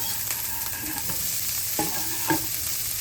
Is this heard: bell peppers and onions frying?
yes